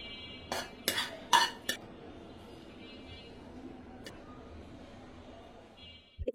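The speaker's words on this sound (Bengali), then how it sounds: "তো এখন আমি 1 মিনিট একটু নাড়াচাড়া দিয়ে ভাজিটাকে নামিয়ে নিব।" A spoon stirs and scrapes okra (bhindi) masala fry in a pan, giving a few clear metallic clinks early on. Quieter background hum follows, then a couple of knocks at the end.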